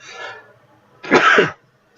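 A single sharp sneeze bursts out close by, loud and brief, after a faint murmur of background noise.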